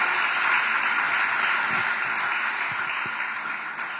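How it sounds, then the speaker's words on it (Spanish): Church congregation applauding in a thick, sustained wash of clapping that slowly eases toward the end, loud and continuous with no speech over it. "démosle un aplauso al Señor"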